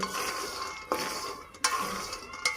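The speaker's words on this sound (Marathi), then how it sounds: "थोडं आणखीन भाजू देऊ आपण बीला" Peanuts roasting in a pan are stirred, giving a soft continuous dry rustle with a few sharper scrapes and clinks of the spoon against the metal, fairly quiet and close.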